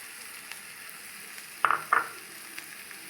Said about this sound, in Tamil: ஸோ இப்போ நம்ம பொட்டேட்டோ சேர்க்க போகிறோம்.